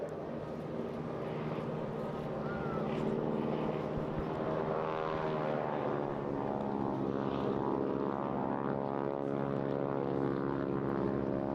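A propeller aircraft flies past at the Eastbourne International Airshow, its engine drone steady and loud throughout, the pitch shifting as it passes close by.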